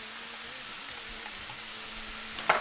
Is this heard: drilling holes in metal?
no